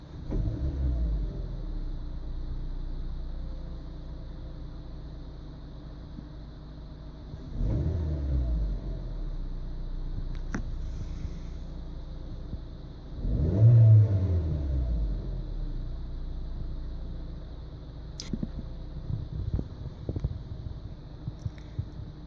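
A Suzuki Swift engine idles steadily, then its throttle is blipped twice. Each blip gives a short, sharp rise and fall in revs a few seconds apart, close and clear over the idle.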